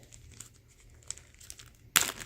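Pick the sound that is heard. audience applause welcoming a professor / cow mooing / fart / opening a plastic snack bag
opening a plastic snack bag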